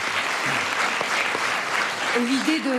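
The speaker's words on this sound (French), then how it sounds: "Oui, ça s'applaudit, bien sûr." Audience applause from a French talk-show studio audience, a steady wash of clapping filling the whole moment, with a voice speaking briefly over it toward the end.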